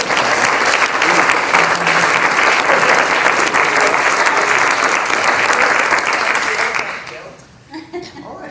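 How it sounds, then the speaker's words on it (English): A community audience at an Indigenous People of Portsmouth talk breaks into loud, sustained applause that holds evenly for about seven seconds, then fades to a few scattered claps. "if everyone could give a big applause"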